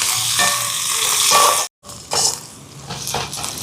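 Onions and green chilli frying in a pan for a Jaffna-style whole chicken devilled, a steady close sizzle broken by stirring scrapes and a brief silent gap, with no one talking.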